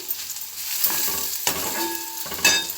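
Rava and salt are fried and stirred in a pan: a soft continuous sizzle broken by three or four scraping strokes of a spoon.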